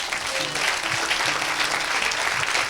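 Steady applause fills a church service as the congregation claps and cheers in praise of Jesus, a dense continuous wash of hands with a faint low hum underneath, no one speaking over it.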